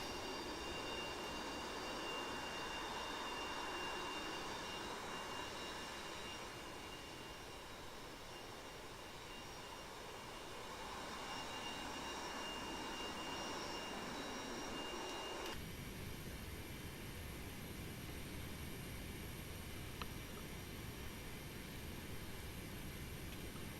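A silver jet taxiing in the DCS flight simulator, its engine giving a steady whining drone with high tonal hums, shifting in character partway through and continuing alone.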